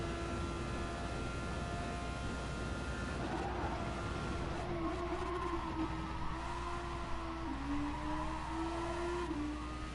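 A video game race car roars under acceleration with overtake and thrusters engaged, a loud, sustained engine whine climbing and stepping through pitch changes, with a faint hiss of tires beneath and no talk.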